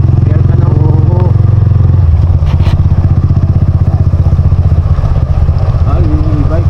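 A motorcycle engine idling with its exhaust running: a loud, close, steady low rumble with rapid chugging pulses that continues throughout, while people talk over it.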